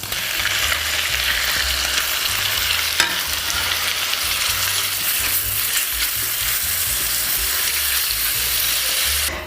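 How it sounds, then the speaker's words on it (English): Lobster frying in butter with garlic and shallots gives a loud, continuous sizzle close up, broken by occasional stirring scrapes. "I'm going to add a little extra butter and then drop in the lobster"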